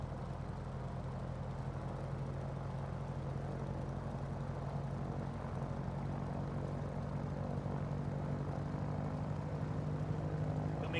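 A Grumman Wildcat fighter's radial propeller engine drones steadily at run-up in a flight simulator, a loud, even low rumble with a throbbing hum that holds constant throughout, no talk.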